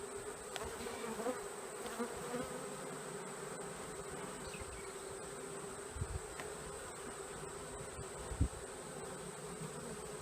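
Steady, close buzzing of many honeybees at a top bar hive, a continuous drone with a few louder bumps and knocks.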